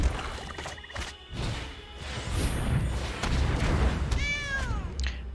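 A cat meow sound effect from a lynx card in the MTG Arena digital card game, a short rising-falling cry near the end following softer game clatter and thuds.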